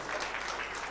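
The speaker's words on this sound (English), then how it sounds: "We must give a round of applause to Santhosh" Audience applause for a panelist at the close of a panel discussion on angel investment in Kerala, a steady, dense clapping that fills the hall throughout, fairly loud with no speech over it.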